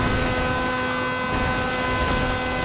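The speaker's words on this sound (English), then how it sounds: "The car being constantly stuck at maximum revs, combined with all the tire screeching and collision noises" A car engine stuck at maximum revs in a racing video game, a steady droning high-rpm whine with no change in pitch, continuous and moderately loud throughout.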